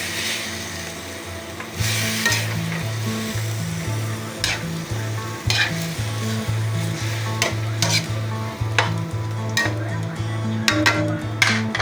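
Chicken frying for sinampalukang manok, stirred and turned with a utensil in the pan, a loud steady sizzle punctuated by regular scraping knocks against the pot.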